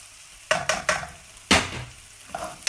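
Shrimp sizzle in a hot pan as turmeric and paprika are added, with several sharp stirring scrapes and clacks breaking up the steady frying hiss; no one talks.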